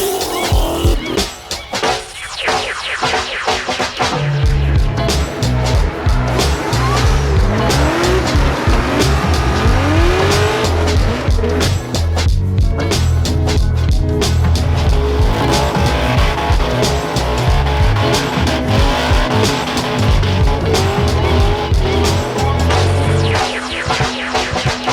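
A race car drives hard with a loud, continuous engine roar and repeated sharp tire squeals and skids, all close and steady throughout with no talking.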